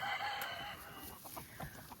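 A rooster crows faintly in the distance, a short drawn-out call amid quiet outdoor background noise.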